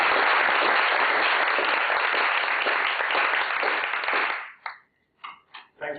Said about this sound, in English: let's welcome Ambassador Olcha with a big round of applause.